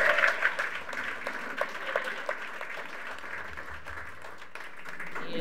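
A live audience applauds a jazz musician at a dinner-party performance, with steady, moderately distant clapping that holds throughout at a fairly low level.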